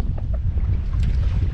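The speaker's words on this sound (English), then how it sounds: "The wind's getting worse" Steady wind rushes over open water near a small fishing boat, a loud, continuous low roar with buffeting on the microphone and no voices.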